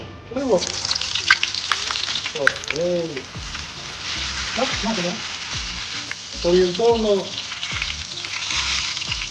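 Frozen ice cream dropped into hot oil for deep-frying sizzles and crackles steadily and loudly up close, while someone speaks over it throughout.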